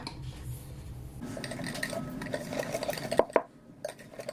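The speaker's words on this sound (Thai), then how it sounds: "จากนั้นคนให้เข้ากันให้เนื้อเนียนเลยนะคะ" Batter for a banana cream cheese cake being stirred in a bowl, a steady soft scraping and swishing that grows busier, punctuated by a couple of sharp utensil clinks against the bowl near the end.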